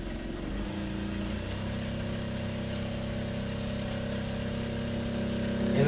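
A sewing machine runs steadily, stitching a seam on women's pants fabric, a continuous close motor hum with no pauses and no voices.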